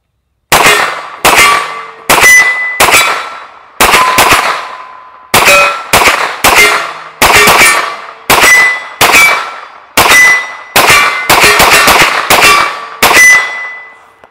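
Hi-Point 995TS 9mm carbine emptying a 20-round magazine at about 30 yards, sharp loud shots in quick uneven bursts, each ringing briefly, then silence after the last round.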